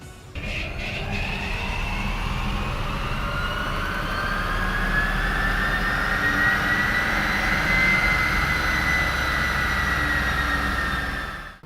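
Tesla-swapped Ford Mustang electric drive unit at full power on a chassis dyno, a loud steady whine climbing in pitch over roller and tire roar, sustained for about eleven seconds before cutting off, with no talking.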